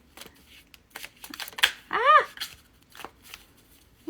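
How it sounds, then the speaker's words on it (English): Playing cards being shuffled by hand at a table, a run of crisp riffling bursts with a sharp flutter in the middle, close and fairly loud amid quiet pauses. "And shuffle these a little bit."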